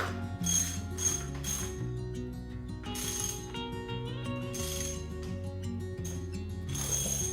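A ratchet wrench snugs up bolts on a 1969 Plymouth Fury III, rapid close clicking in several bursts of repeated pawl clicks separated by brief pauses, quiet and alone.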